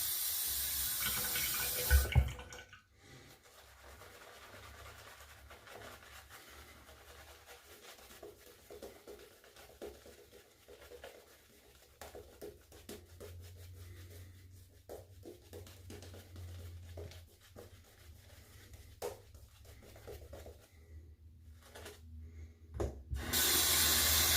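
Water runs steadily from a tap for most of the stretch, a constant close splashing hiss with a few clicks and bumps at the start and end.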